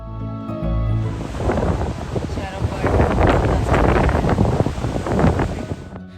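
Strong wind buffets the microphone while big waves surge and crash continuously on rocks on Kangaroo Island, Australia, loud and close, with a roaring, rushing texture throughout.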